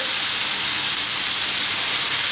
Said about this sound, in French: je rajoute un peu de viande hachée